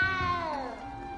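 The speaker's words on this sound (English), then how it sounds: "You don't need to be frightened, little cat." A single cat in a video game gives one drawn-out, falling meow, close and fairly soft over a low background.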